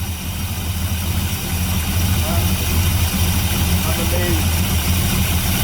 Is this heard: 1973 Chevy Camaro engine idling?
yes